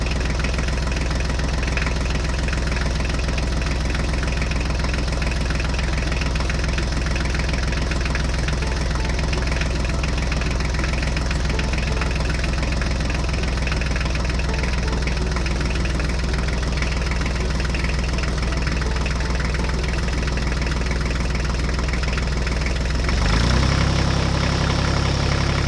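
An HMT tractor pulling a trolley heavily loaded with stones runs its engine steadily, a loud, continuous knocking diesel drone that shifts briefly near the end.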